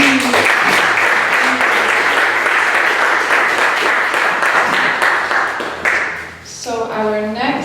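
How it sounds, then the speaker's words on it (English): Audience applause for a performer named Lisa at a live Power to Truth event, steady crowd clapping that holds for several seconds before tapering, with a voice speaking near the end. "One more round of applause for Lisa, please."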